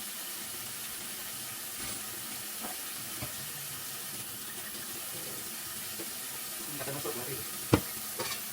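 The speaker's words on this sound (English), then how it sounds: "I have a dishwater ready, so when I'm cooking and whatnot, I just got my hands in the water and just washing them through." Hands swishing through a sink of dishwater while cooking in a home kitchen: low, steady watery sloshing with occasional soft splashes and clinks, a sharper knock near the end, and no speech.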